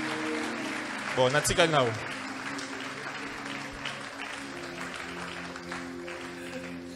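A church congregation breaks into a short burst of applause and cheering, loud and close, under a speaking voice, then fades to a murmuring room as talk continues.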